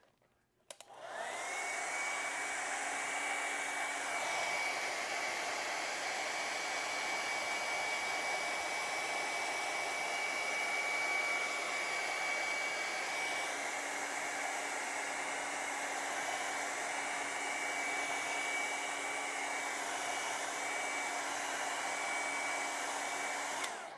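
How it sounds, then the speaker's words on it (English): A hair dryer roars steadily up close, a constant airy whir with a high whine, running uninterrupted after a brief click on. "then I'm going to take a hair dryer"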